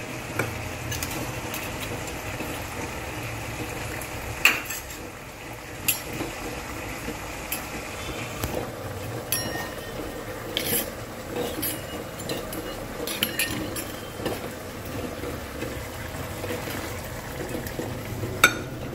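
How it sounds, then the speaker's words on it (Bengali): A fried cauliflower curry sizzles softly in a pan after cornflour water is added, with scattered scraping and clinking stir strokes over a continuous low bubbling hiss. "এবার কর্নফ্লাওয়ারের জলটা দিয়ে দিই।"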